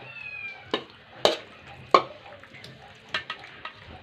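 A minced meat mixture stirred with meat sauce, heard as several separate sharp scraping and clacking strokes spaced irregularly over a quiet, faintly sizzling background, with no voices.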